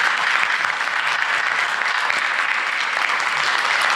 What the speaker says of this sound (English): I think that we should give Steve and his group a round of applause.